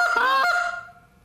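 A handheld goose call sounding a single long-distance Canada goose honk, loud and close, that rises and then trails off. A person is imitating the bird with the call.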